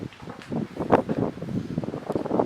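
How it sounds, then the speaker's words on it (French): Low, buffeting rumble of wind hitting a microphone, fluctuating in gusts with a faint rustle behind it. "désolé pour le vent, si ça vous fait du bruit dans..."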